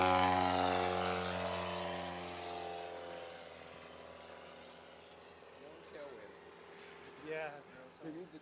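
A STOL competition aircraft taking off at the Valdez Fly-In, its propeller engine roaring loud and close at first, then fading into the distance as a commentator talks over it.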